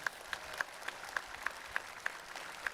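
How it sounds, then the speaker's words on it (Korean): A congregation at an Easter union worship service claps in thanks to God, a faint, steady rhythmic patter of sharp claps at an even pace, sounding distant and thin. "우리 하나님께 감사의 박수 한번 해봅시다"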